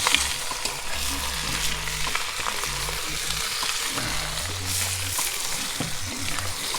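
Lamb meat browns in a hot cast-iron potjie pot, with a steady sizzle and frying crackle running throughout while the pieces are stirred and scraped, producing intermittent low clunks of the utensil against the pot.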